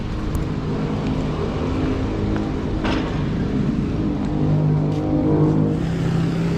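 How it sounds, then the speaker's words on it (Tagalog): A car drives steadily nearby with a continuous engine hum and road noise throughout, picking up slightly toward the end, with no talk over it. "Nandito na yung sasakyan namin."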